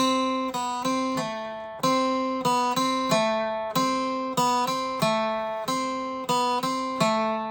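A guitar plucks a short, simple melody of single notes in an even rhythm, each ringing and decaying, close and clear with no voices.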